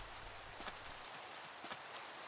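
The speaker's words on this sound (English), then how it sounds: "got some rain again. Classic Minecraft." Rain falling in Minecraft, a soft, steady hiss of drops on a surface, faint and continuous, with a few light taps and no talking.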